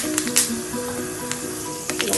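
Fenugreek seeds sizzle in hot oil for a cucumber and potato pickle, a steady close frying hiss with small crackles and pops.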